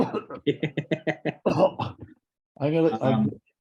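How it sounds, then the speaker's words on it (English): A run of short, sharp coughs in quick succession, close to the microphone, followed by a brief pause and a longer rough cough or throat clearing. "I gotta turn off my mic because I'm coughing."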